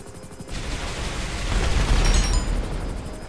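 Rockets from a Hunter attack helicopter in Grand Theft Auto V exploding: a sudden heavy rumbling blast that swells into a deep roaring boom and then holds, loud and close.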